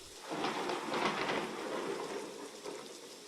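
Heavy rain pours steadily down through a forest, a dense, even hiss of falling water that stays loud and close throughout with no voices.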